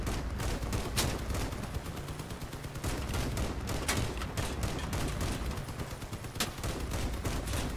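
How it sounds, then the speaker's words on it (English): Auto cannon fire in the vehicle combat game Crossout rattles out in dense, continuous bursts of sharp reports, a steady barrage of gunfire with no speech over it. "My auto cannon shot's hitting him."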